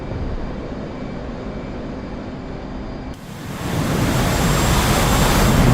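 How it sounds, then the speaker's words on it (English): Jet aircraft engine roaring during takeoff in the DCS flight simulator game, a steady broadband rumble that jumps in loudness midway and keeps swelling, with no voices. "Congratulations! You have just taken off."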